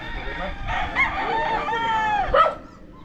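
Roosters crow loudly nearby in the Philippines, overlapping calls with rising and falling notes, plus some clucking in the background.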